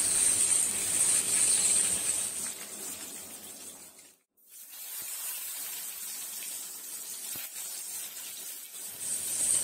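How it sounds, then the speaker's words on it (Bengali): Potato slices frying in hot oil give a steady, close bright sizzle, broken by a brief near-silent gap midway before the crackle resumes. "শুরুতেই ভাজা হচ্ছে আলু ভাজা।"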